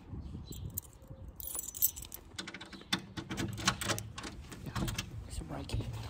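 Keys jangling near a home's front door on arrival, with light metallic clinks and rattles in irregular bursts, under occasional speech.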